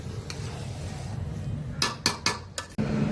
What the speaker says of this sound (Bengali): এবার ভালো করে একদম জমিয়ে মাংসটাকে কষাতে হবে।